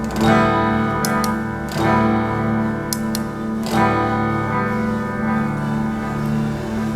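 Sustained electric guitar chords ringing with a delay effect, repeating echoes trailing each strum, loud and steady with no voices.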